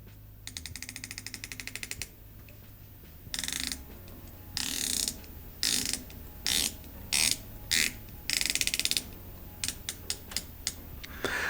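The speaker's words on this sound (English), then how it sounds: "Let's listen to the bezel action." Crisp ratcheting clicks from the rotating bezel of a Spinnaker Piccard automatic dive watch, inspired by the Rolex Deep Sea Special, come in close, loud bursts of rapid detents separated by short pauses.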